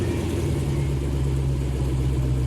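The engine of a 2024 Dark model car runs steadily, a constant low hum with a strong droning tone, close and loud with no speech, holding at an even idle-like level for the whole stretch.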